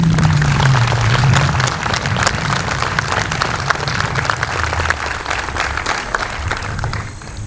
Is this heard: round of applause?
yes